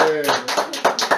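A small group at a family celebration for a mother claps briefly and unevenly right after a voice, the claps close and somewhat sparse.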